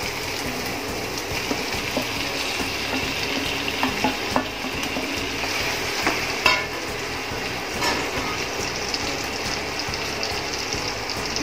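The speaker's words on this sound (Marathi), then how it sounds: "आपला कांदा छान परतला गेलाय, मऊ झालाय। आता आपण हे भरीत त्याच्यामध्ये घालू वांग।" Mashed roasted eggplant being stirred into softened onions frying in a pan, giving a continuous close sizzle with scraping and stirring clicks throughout.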